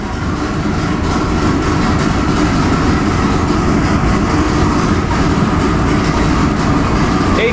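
A turbocharged 632 big-block Chevy engine making about 2200 horsepower runs on a dyno, a loud, continuous roar under heavy load with no pauses, close and with no voices.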